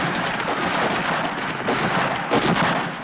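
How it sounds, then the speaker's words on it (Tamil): Gunfire re-enacting the 1919 Jallianwala Bagh massacre crackles as a dense, continuous volley of rapid shots, loud and unbroken throughout with no voices. "பிரிகேடியர் ஜெனரல் ரெஜினோல்ட் டயர் கண்மூடித்தனமான துப்பாக்கிச் சூடு நடத்தியதில்"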